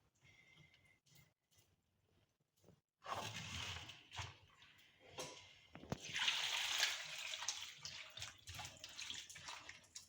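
Large cauliflower pieces dropped into water, with faint splashes and handling at first, then a louder rush of sloshing water from the third second, with a sharp splash near the sixth second.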